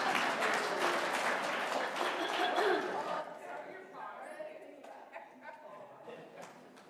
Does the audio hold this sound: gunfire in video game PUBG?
no